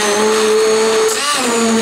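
An electric blender runs loud and close through nettle and pea soup, a steady high motor whine that dips in pitch briefly as the load shifts, then settles again.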